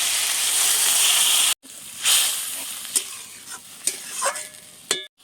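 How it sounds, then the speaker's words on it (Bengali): Water poured into a pan of curry with ginger-garlic paste for a tangra fish stew, a loud hissing sizzle that cuts off sharply, then bursts of steam and spluttering with occasional stirring scrapes, close and without talk. "এবারে আমি এখানে পরিমাণ মতো জল দিয়ে দেবো"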